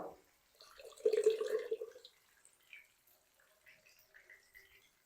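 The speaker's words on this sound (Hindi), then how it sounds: "थोड़ा सा पानी शामिल करेंगे जग में" Water is poured into a grinder jar while bitter gourd curry is being cooked: a short, close splash lasting about a second, followed by faint small trickles and drips in a quiet kitchen.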